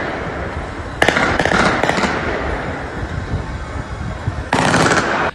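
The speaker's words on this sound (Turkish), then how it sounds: "Adliye binasının hemen yanında silahlar konuştu" Gunfire erupts in a street shootout near a courthouse beside a kebab shop, loud bursts of rapid shots in clusters over a rumbling background.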